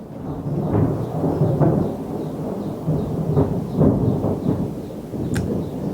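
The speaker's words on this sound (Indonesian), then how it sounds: "wes ada petir nih." Thunder rumbles in deep, rolling waves across a steady wash of rain, with a few sharper cracks, all at a moderate distance.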